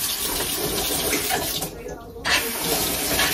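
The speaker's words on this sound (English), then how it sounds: "So now I have to rinse my hands off." Hands rinsed under a running kitchen tap, a steady loud rush of water splashing into the sink, briefly broken as the hands move through the stream, then flowing on.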